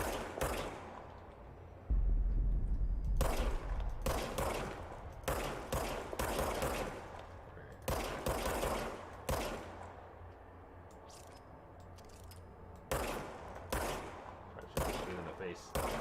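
Gunshots from the player's weapon in the video game Control, a run of sharp, close shots fired in irregular bursts with short gaps, a low rumble underneath and a voice talking between them.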